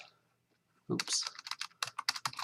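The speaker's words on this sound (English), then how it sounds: "we're going to type Floyd Gilbert" Name being typed on a computer keyboard to search genealogy records: a burst of quick, close key clicks in an uneven rhythm after a brief quiet start, with no talking.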